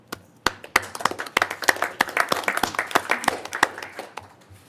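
A small group applauding at a school board of education meeting, scattered distinct claps close by in an uneven rhythm that fades out after a few seconds.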